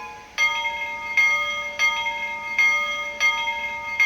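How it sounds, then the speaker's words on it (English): A medium brass steam locomotive bell from a Tsunami2 sound decoder rings about five times at an even pace. The strikes are clear and close, each one ringing on briefly before the next. "So you can hear how that bell sound changes based on how we select it."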